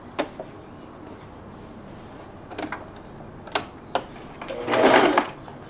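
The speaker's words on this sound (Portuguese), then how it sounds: "E você vai jogar pro avesso dessa forma e vai costurar fazendo um" A sewing machine stitches a blouse collar in short separate bursts, a few quick clicks and then a longer, louder run near the end, close by with no talk.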